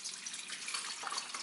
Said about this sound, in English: here I insert a little bit water.